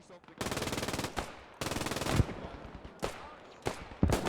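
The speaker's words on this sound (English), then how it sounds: "30 cal trying to get itself into position so it can fire a few shots back" Bursts of .30 cal machine gun fire in a Post Scriptum battle, two sustained rapid strings followed by scattered single shots and impacts, moderately loud with distant battlefield noise between.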